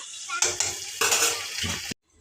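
Broad beans curry being stirred in a pot on the stove, with a spoon scraping and clinking against the metal in steady bursts over a soft sizzle, close and fairly loud, ending abruptly.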